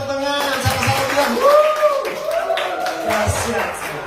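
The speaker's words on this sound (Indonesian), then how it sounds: "Kasih tepuk tangan." A church congregation of about fifty young people claps and cheers in a steady, dense wash of applause that runs the whole time under a preacher's loud amplified voice.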